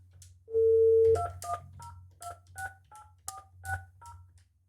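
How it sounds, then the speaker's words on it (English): A FlyingVoice FIP14G IP phone gives a dial tone, then a quick run of about ten DTMF keypad beeps in an uneven rhythm, clear and close, with a low hum underneath. "let me try to dial my cell phone now and see if that works"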